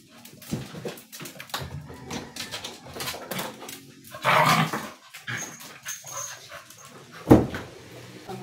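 Pet dogs at home bark, whimper and growl in scattered bursts, with one sharp loud bark near the end, mixed with indoor household noise and little speech.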